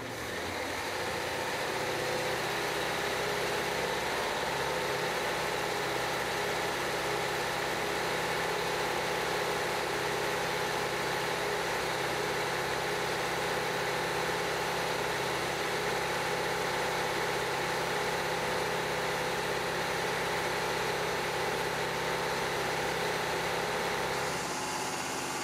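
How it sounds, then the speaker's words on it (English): A 454 marine V8 boat engine runs at a held 2000 RPM, a loud, steady, close rumble with a continuous mechanical drone that barely changes. "Now I'm gonna take it up to 2000 RPM for 20 minutes!"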